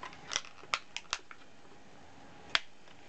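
Scissors cutting through plastic toy packaging for a Fingerlings toy: a quick series of four crisp close snips, then a pause and one more sharp snip, quiet background with no talking.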